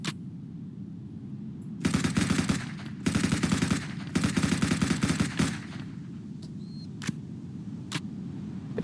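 Bursts of rapid automatic gunfire from a mid-range rifle in a zombie survival game, heavy recoil and fast-emptying ammunition, come as several sustained volleys separated by short pauses, followed by a few isolated single shots and faint clicks.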